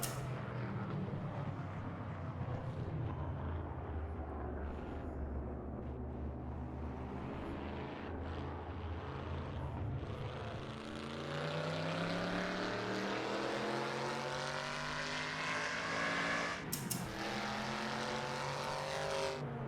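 An early-1960s race car engine roars and revs continuously, its pitch sweeping up and down in rising and falling waves, with a sharp burst near the end.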